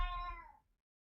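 A single cat's meow, close and clear, about half a second long and fading quickly into silence.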